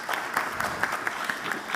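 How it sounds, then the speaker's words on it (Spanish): Applause for the panelists at the close of an intermodal logistics conference panel in Monterrey, heard as a thin, moderate patter of hands with a few louder individual claps standing out. "les quiero pedir un fuerte aplauso para los panelistas del día de hoy"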